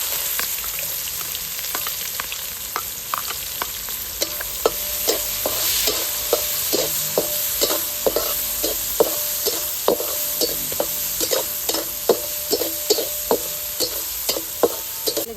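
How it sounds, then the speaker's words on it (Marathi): Onions sizzle and fry steadily in hot oil with crackled cumin seeds while a utensil scrapes the pan in regular, repeated strokes, close and fairly loud. "जिरे पण चांगले तडतडलेले आहेत लगेच कांदा टाकून घेऊ"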